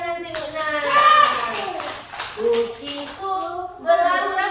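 Hands clap in a steady rhythm beneath voices singing a children's song about a cat, with the claps in the foreground at moderate loudness and the singing carrying over them throughout.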